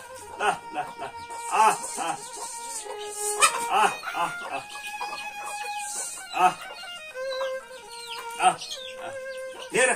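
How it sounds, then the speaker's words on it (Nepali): Chickens cluck and a rooster crows repeatedly at close range in a rural farmyard, the calls coming in irregular bursts with a few voices heard faintly around them. "कुखुरालाई हेर्ने"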